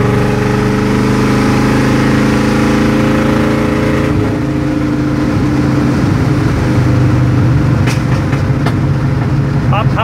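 A Chevy C30 truck engine with the mufflers cut off runs loud and rough, bogging with a deep uneven rumble before sharp backfire pops crack near the end.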